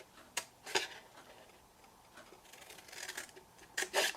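Scissors snipping through card along score lines for a scented candle peep-hole box, a few short crisp cuts spaced apart, close and fairly quiet in a still room.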